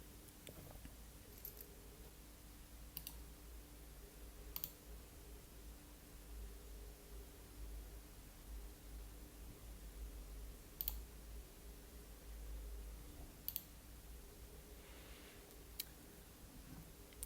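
Quiet, sharp computer mouse clicks sound a handful of times at irregular intervals over a soft, steady background hiss.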